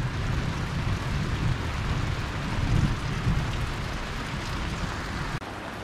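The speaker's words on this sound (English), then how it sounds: "you can hear our storm overhead." Steady rain drums on the roof of a Casita travel trailer during a thunderstorm overhead, a dense continuous wash of noise with low rumbling swells, loud and close, with no talk.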